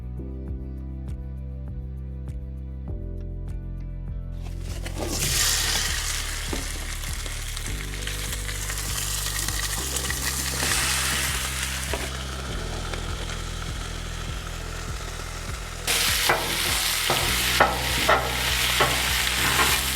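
Sausage frying in olive oil on a Blackstone griddle, a steady close sizzle with stirring and scraping of the spatula against the flat top, rising louder partway through, while background music plays underneath.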